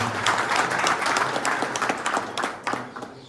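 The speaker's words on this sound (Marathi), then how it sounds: "तर जोरदार एकदा तुमच्या स्वतःसाठी टाळ्या झाल्या पाहिजे." Audience at a National Farmers Day program in Dharangaon applauding, a dense burst of many hands clapping together that stays loud and then thins slightly toward the end.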